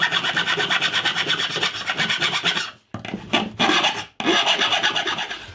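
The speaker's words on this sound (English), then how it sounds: "so I'm going to have to just file the ends off" A file rasps back and forth across the protruding ends of overlong screws in a guitar-building jig, steady rapid strokes continuing for a few seconds, pausing briefly twice, then resuming loud and close.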